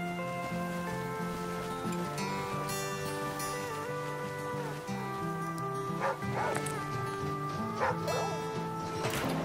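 Dog in the video game The Flame in the Flood barking and whimpering in a string of short yips and whines over soft rain, moderately near.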